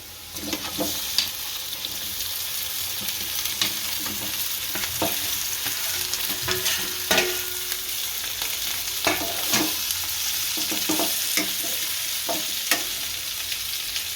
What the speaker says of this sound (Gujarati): આ બધું સારી રીતનું સડી ગયું છે, હવે બટેકા નાખશું।